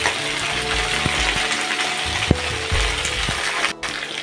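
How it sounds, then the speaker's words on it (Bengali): Potato slices and green beans fry in a pan, a steady dense sizzle broken by occasional scraping stirs and clinks of a utensil, close and fairly loud with no voices. "এখন আমি আলু আর শিমটাকে কিন্তু একটু ভালো করে ভেজে নেব।"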